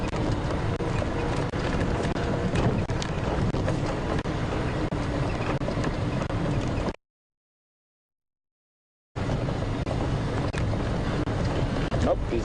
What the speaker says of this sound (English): Oh, here comes that cold wind.